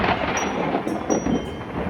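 Thunder rolls during a heavy thunderstorm with lightning and hail, a continuous low rumble filling the whole stretch with steady rain-like noise mixed in and no talking.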